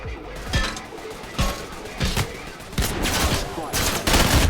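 Bursts of rapid video game gunfire from Trepang2 crackle repeatedly in loud volleys, with faint voices mixed underneath the shooting.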